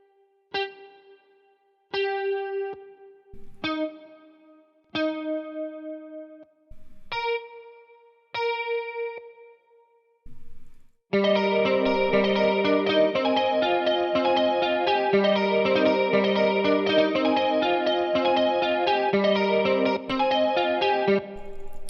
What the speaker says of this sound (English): So we got a different guitar sound now